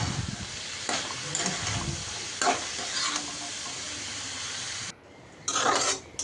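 Chopped vegetables and jackfruit seeds fry with dried fish in a hot pan, a steady loud sizzle with bursts of stirring and scraping, briefly dropping quieter near the end before flaring up again.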